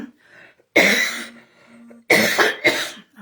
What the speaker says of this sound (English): was hoping to get through without the coughing